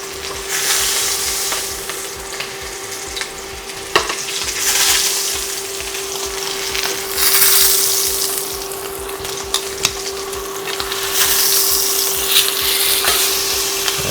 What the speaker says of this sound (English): Now I'm going to sear the steak itself.